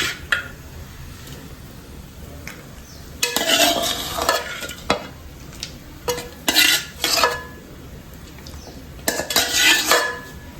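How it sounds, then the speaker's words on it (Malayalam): Fish pieces dropped into a bubbling fish curry in a clay pot, heard as several short bursts of splashing, scraping and clinking against the pot, close up, with quieter gaps between them. "അപ്പോൾ നമുക്ക് മീൻ ഇട്ട് കൊടുക്കാം."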